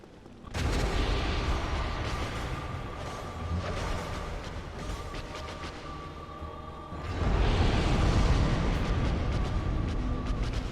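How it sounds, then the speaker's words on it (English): Loud explosions in the video game Dark Souls, played with the Daughters of Ash mod during a phantom boss fight: two sustained, booming bursts of blast noise, the second heavier, with rumbling debris and crackle between them. "Hey, we evaded the explosion."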